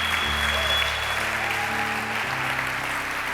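A church congregation claps together in a steady, dense wash of applause, with a low sustained organ or keyboard tone beneath it.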